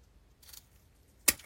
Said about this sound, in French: je vais venir couper, hop, l'excès du zip